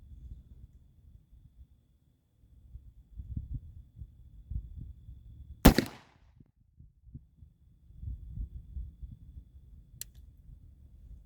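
A single sharp shot from an 1842 British Navy pistol cracks out loudly midway through, with low rumbling handling noise before and after and a faint click near the end.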